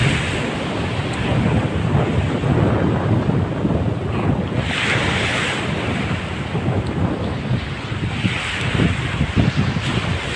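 Strong wind and ocean waves crash along the shore near the sea at Brooks in Palawan, a loud, constant roar of surf with heavy wind buffeting the microphone throughout.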